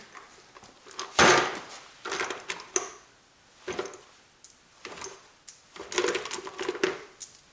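Bolts going into a Mitsubishi Eclipse GSX transmission case, with close metallic clinks, scrapes and knocks of hardware and tools on metal, arriving in uneven bursts with brief gaps.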